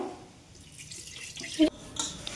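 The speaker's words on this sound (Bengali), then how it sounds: "আর এবার এটাতে দিয়ে দিব জল" Water pours into a pot of fried rice for pulao, a short splashing trickle that ends with a brief clink.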